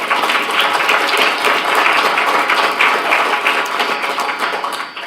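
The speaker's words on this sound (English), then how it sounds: "So maybe give yourselves a round of applause." Summer school participants give a sustained round of applause at the close of a course, with dense, even clapping that stays steady for several seconds before tapering slightly.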